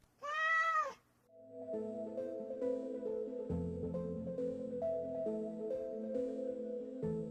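A kitten gives one clear, close meow in an AI-animated story, followed by soft, steady background music.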